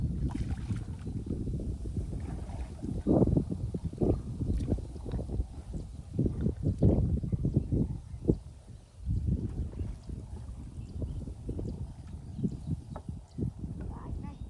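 Creek water sloshes and knocks against a small wooden crab-fishing boat in irregular low thumps as it rocks, with a steady low rumble underneath.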